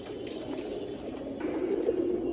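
Breeder pigeons kept at a home loft coo softly in low, repeated throaty murmurs, fairly close and steady against a quiet background.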